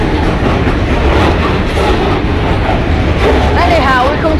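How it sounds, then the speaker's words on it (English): A long freight train rumbles steadily past a level crossing at Lincoln Central, loud and close with continuous wheel clatter and screeching, while someone talks over it. "Freighter 2 is just gone, and there's the end of freighter 1."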